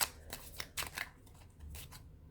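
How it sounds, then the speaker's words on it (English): A deck of tarot cards is shuffled up close in several quick riffling bursts, faint and papery with brief pauses between them. "So one more shuffle."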